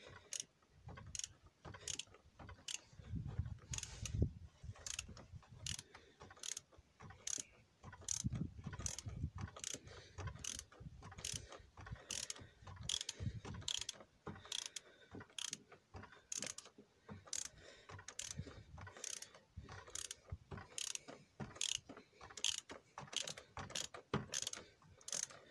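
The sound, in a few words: ratchet unscrewing oil filter on Citroën 1.6 HDi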